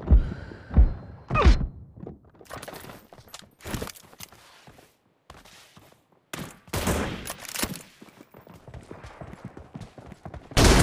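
Sharp gunshots from an M24 sniper rifle in a video game ring out as isolated loud bangs, several spaced irregularly across the stretch among quieter game effects and footsteps.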